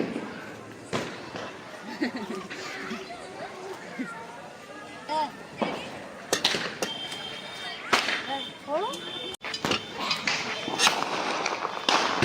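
Several sharp Diwali firecracker bangs burst at irregular intervals outdoors in a village, some near and some farther off, amid people chattering and shouting.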